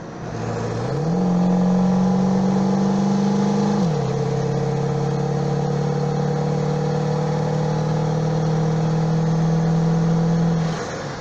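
A diesel truck engine with almost 400,000 miles on its stock injectors idles, then revs up and holds a raised drone for a few seconds before dropping back to a steady, loud, close rumble.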